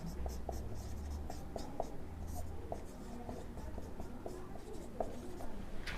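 Pen writing on paper during a class 10 maths lesson on section formulae, a steady scratching with short strokes that continues throughout, close and clear, with faint speech-like murmur underneath.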